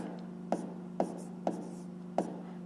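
Pen or chalk writing by hand during a fifth-grade math exercise, heard as four sharp, separate taps and scratches at a fairly steady pace over a low background hum, close and quiet, with no talking.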